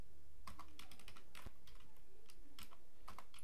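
Keys clack on a computer keyboard during a CodeIgniter 4 coding session, a quick irregular burst of close, crisp keystrokes with short pauses and no voice.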